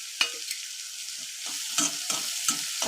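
Onions frying in a pan: a steady sizzle with repeated scraping and stirring clatters from a spoon, close by.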